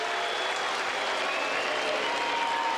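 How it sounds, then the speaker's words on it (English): A tennis stadium crowd at the Miami final between Sampras and Kuerten, talking, chanting and applauding in a dense, continuous roar of clapping and chatter that stays steady throughout. "You can hear the crowd still talking and chanting."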